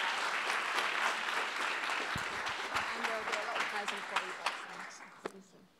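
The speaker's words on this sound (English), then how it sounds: "can we just give another round of applause?" Audience applause at a conference's closing session, sustained clapping throughout with a few louder individual claps standing out near the end as it thins.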